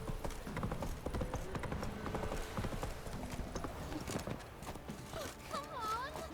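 Geralt's horse Roach galloping in the video game The Witcher 3, with rapid, steady clip-clop hoofbeats running throughout, a whinny near the end, and someone speaking over the hooves.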